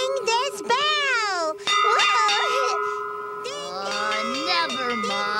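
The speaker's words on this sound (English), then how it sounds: "I'm ringing this bell!" A hand bell rings with a steady metallic tone while animated voices talk and shout over it.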